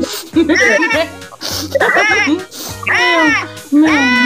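A voice imitates a cat's meow, repeating it loudly in a quick, sing-song rhythm, close up.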